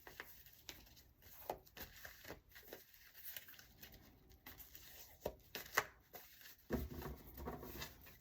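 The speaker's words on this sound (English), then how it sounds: "Going to shuffle 4 times." Quiet, close tarot cards are shuffled by hand in soft papery riffles and slaps, with uneven bursts and brief pauses between them.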